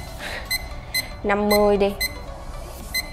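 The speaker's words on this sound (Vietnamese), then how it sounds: "để nó reo cho mọi người nghe được cái tiếng chuông báo thức của nó ha" A RITERS RTS-308 digital clock sounds its alarm, a short burst of electronic beeping tones near the middle, with a person speaking and periodic button beeps around it.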